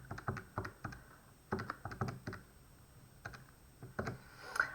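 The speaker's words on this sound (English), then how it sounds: "Now I've got a calculator to do that for me" Fingers tapping keys on a calculator: a run of quick, crisp clicks in uneven bursts, close and fairly quiet, with short pauses between groups of presses.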